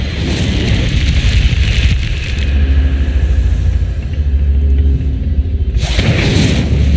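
A fire spell, Incendio, cast in the video game Hogwarts Legacy, erupts as a loud, sustained roaring burst of flame with deep rumble, fading slightly before a second surge near the end.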